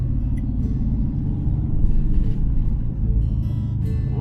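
A motorcycle rides through the town of Keystone, South Dakota, during the 80th Sturgis rally, its engine a steady low rumble that swells slightly midway, with no talk.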